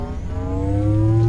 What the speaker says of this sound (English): Halo Shield Recharge Sound